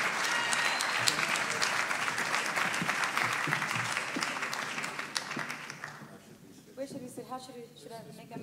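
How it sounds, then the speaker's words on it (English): An audience at a writers' festival event applauds loudly and steadily for several seconds, the clapping then fading out as voices begin talking. "give them a round of applause"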